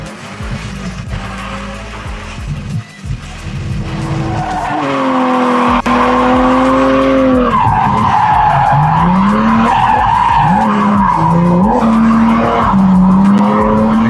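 A car engine, a non-stock engine upgrade, revs hard and climbs through rising pitch sweeps, with tires squealing and skidding, loud and close throughout, no talking.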